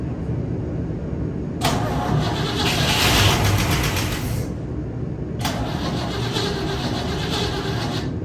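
A 1959 Cadillac engine cranks and fires up twice, with rough, loud bursts of running that die away between attempts, over a steady background rumble.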